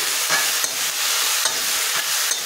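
Leafy greens seasoned with salt and turmeric are stirred in a hot pan, a steady sizzle with scraping spatula strokes recurring every half second or so, close and continuous with no talking.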